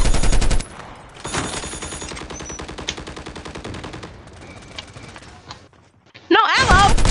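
Rapid automatic gunfire from the mobile shooter game Call of Duty Mobile, loud and close in sustained bursts with a brief lull, then a sharp burst of game effects at the end.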